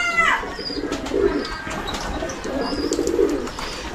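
Pigeons coo on a house rooftop in soft, low, rolling phrases, two clear bouts close by, with faint chirps and background rustle around them.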